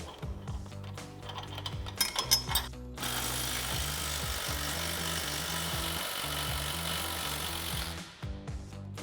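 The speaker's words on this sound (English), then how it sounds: "So now we can take our 18 millimeter swivel socket and our 18 millimeter wrench and remove this bolt." An 18 mm swivel socket and wrench work loose a front shock bolt on a Jeep Gladiator JT, giving a steady close mechanical whir after a few short clicks and knocks, with no talking.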